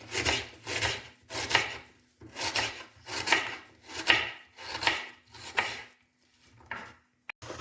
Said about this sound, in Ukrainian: Беремо цибульку, перерізаємо на половинку, ще на половинку і так.